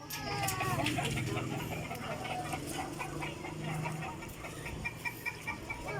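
Chickens cluck and squawk in a steady jumble nearby, mixed with background voices and outdoor noise, in a flooded area by the Mananga River.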